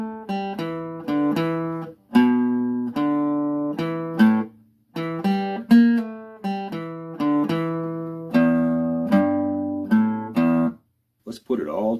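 Blues guitar riff section from an easy lesson, played alone in bursts of strummed and picked notes with short pauses between phrases, loud and close, ending with a brief slide.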